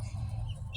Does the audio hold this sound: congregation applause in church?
no